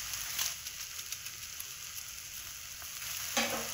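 Stuffed karela (bitter gourd) fries in a pan with a faint, even sizzle and crackle, low in level, with a brief clatter of a utensil near the end.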